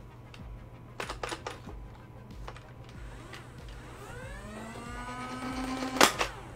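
A motorized Fortnite AR-L Nerf blaster winds up with a rising whir, then fires once in a sharp burst near the end, after a few earlier clicks and handling sounds close by.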